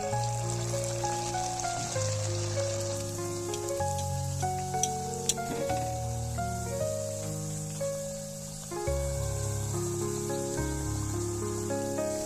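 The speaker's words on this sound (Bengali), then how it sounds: "আমি সবগুলো কচুরি এভাবেই ভেজে নেবো" Cauliflower kachori deep-frying in hot oil gives a steady, close sizzle under loud melodic background music throughout.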